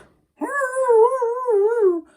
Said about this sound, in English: the hounds are barking off in the distance